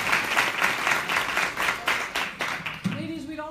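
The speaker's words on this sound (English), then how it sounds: "Let's give our guests a round of applause." Audience at a women in business breakfast claps for the guests, a rhythmic round of applause with pulsing bursts, then a voice cuts in near the end as the clapping fades.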